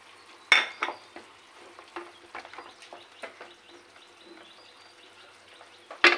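Chela fish and tomato cook quietly in a pan, giving soft sizzling and intermittent clicks and scrapes of stirring, with a louder clatter at the start and end and faint bird chirps in the background.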